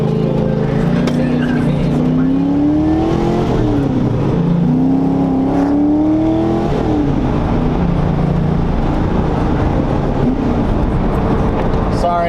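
Car fitted with a stage 3 clutch driving with windows down, its engine droning and rising through revs at close range with steady road and wind noise throughout, loud and continuous.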